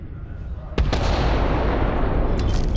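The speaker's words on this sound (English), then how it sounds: "that explosion" A big explosion in the video game Starfield bursts suddenly after a quiet moment, a loud blast followed by a sustained roaring rumble and crackling debris that fills the rest of the clip.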